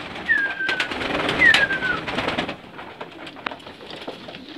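Racing pigeons at a loft coo at feeding time, two clear rising-falling calls close by in the first two seconds over a soft bed of shuffling and faint pecking, quieter afterward.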